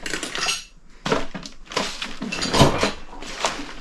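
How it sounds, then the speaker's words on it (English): Old silverware clatters and clinks in bursts in an abandoned late-1990s farmhouse in southern Pennsylvania, with loud metallic rattles and pauses between handfuls, close up and without talk. "Silverware."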